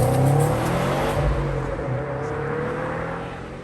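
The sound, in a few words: Subaru WRX STI turbocharged boxer engine revving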